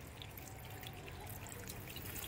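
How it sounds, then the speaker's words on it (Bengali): Water poured onto soil in a plant pot while sowing cucumber seeds, producing a soft, continuous trickling and dripping wash, faint and steady with no voices. "আমরা এই জলটা এখন এই টবের মধ্যে দিয়ে দেবো"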